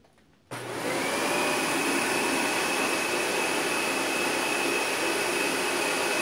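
A Dyson DC65 vacuum cleaner switches on and runs through its hose as a loud, steady airflow roar with a faint high whine, continuous after the start.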